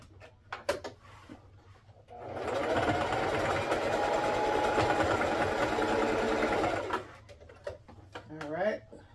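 A sewing machine runs a short stitch over a small hole in a homemade garment, one continuous whirring burst of about four and a half seconds, close and fairly loud, with quieter handling clicks and rustles before and after.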